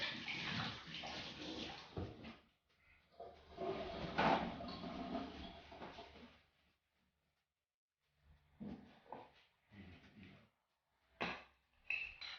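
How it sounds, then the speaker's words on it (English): Running tap water splashing over hands being washed in a home kitchen, a steady rush for several seconds, then silence and a few shorter bursts of water and handling. "Let me wash the hand first."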